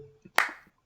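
A single sampled clap used as a percussive element in a beat, one sharp bright hit following a soft tap, short and isolated with a brief decaying tail.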